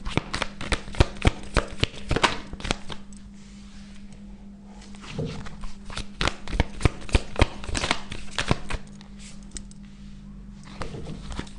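A tarot deck being shuffled by hand, with rapid riffling card flutters in repeated bursts and soft slides and taps as cards are drawn, close and fairly quiet with no talking.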